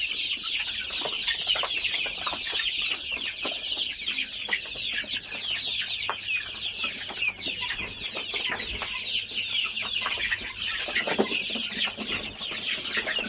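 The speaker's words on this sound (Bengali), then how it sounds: "দেখুন আমাদের মুরগিগুলা।" A flock of two-month-old Egyptian Fayoumi chickens on a hatchery farm clucking continuously, many overlapping calls close by, with no talking.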